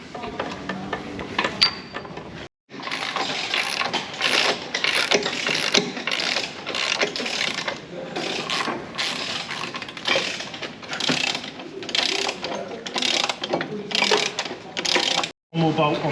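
Bolts are undone on the subframe of a Thornycroft Antar Mk3 truck, a loud close ratchet clicking in rapid repeated bursts that runs for most of the stretch, with voices talking alongside.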